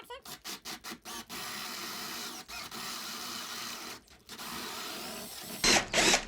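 A drill bores a hole through wood backed by a sacrificial block, beginning with several quick stuttering bursts, then a steady grinding whir that dips briefly and ends with a sharper, louder spin.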